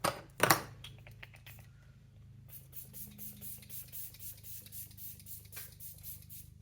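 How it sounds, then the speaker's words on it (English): A Tarte setting spray mister fires a couple of quick, close hisses, followed by soft rubbing and light tapping sounds with no talk. "I am going to go in with the Tarte setting spray."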